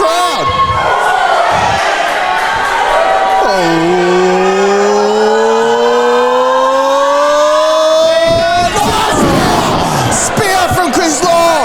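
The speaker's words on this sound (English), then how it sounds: "Listen to this crowd." A loud, sustained roar from the crowd at a live wrestling event fills the whole clip, with a long rising droning tone through the middle and dense cheering noise throughout.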